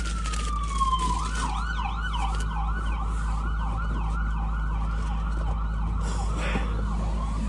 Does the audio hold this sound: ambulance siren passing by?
yes